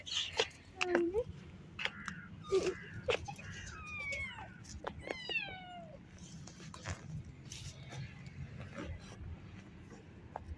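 A cat meows several times in short, rising and falling cries, with a person talking quietly nearby and some rustling.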